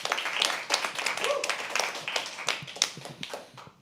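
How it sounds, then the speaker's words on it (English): A live poetry open mic audience at The Habitat breaks into a round of applause, a dense patter of many hands clapping at moderate loudness with a few sharper claps standing out, and faint voices mixed in. "Can we please have another round of applause?"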